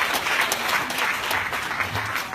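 Applause from an audience welcoming a former provincial governor of Masbate at a gathering, a steady, dense clatter of many hands filling the short moment with no speech over it.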